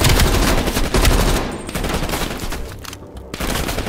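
Rapid automatic gunfire from an enemy in Call of Duty Black Ops Cold War, loud, sustained bursts of shots that fill the clip, with brief gaps near the end.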